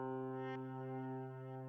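Glitch effect with reverb and delay applied to a synth during live practice, a steady sustained harmonic tone with a brief bright burst near the start, moderately loud and alone.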